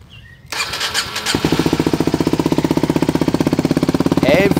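A Kawasaki Ninja 125 with an aftermarket exhaust cranks and fires, then settles into a loud, rapid, throaty idle with a pulsing rumble, recorded up close.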